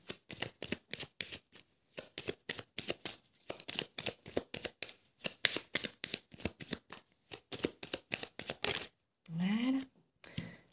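Oracle cards are shuffled up close in fast, crisp riffling bursts that run almost without pause, then give way to a card being drawn. A voice speaks briefly near the end.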